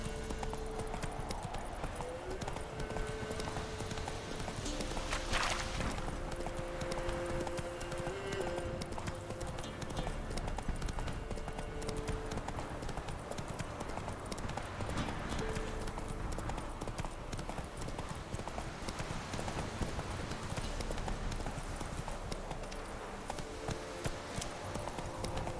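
Roach the horse gallops in The Witcher 3, a steady, fast clip-clop of hooves that runs throughout, loud and near, over a continuous game ambience bed.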